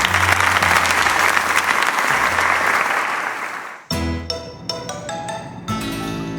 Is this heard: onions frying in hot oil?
no